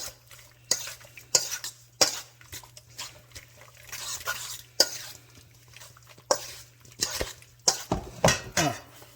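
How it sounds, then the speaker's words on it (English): Chicken gizzards stirred in beaten egg in a bowl, a utensil clinking and scraping against the dish in irregular close strokes over a quiet kitchen background. "Give this a stir. Make sure them gizzards get coated in that egg real good."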